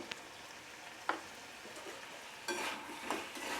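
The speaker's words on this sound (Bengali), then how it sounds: "দিয়ে এটা ভালোভাবে আমি নেড়ে চেড়ে দেব" Chilli powder and turmeric powder stirred into a frying pan, a low steady sizzle with a few soft scrapes and clinks of the spoon against the pan, close and fairly quiet.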